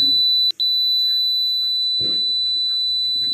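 A piercing, continuous high-pitched fire alarm tone from a small homemade device sounds loudly, broken by one brief gap, with faint movement noises underneath.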